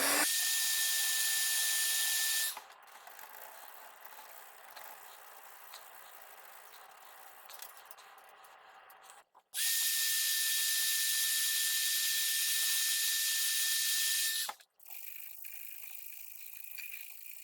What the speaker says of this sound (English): heat it up a little and do a small section at a time and scrape it off